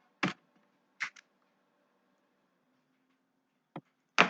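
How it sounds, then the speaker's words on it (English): Sparse, isolated clicks of keys being typed on a keyboard, a handful of sharp taps spaced irregularly with long quiet gaps, close but soft in a quiet room. "I've been literally typing for 3 hours."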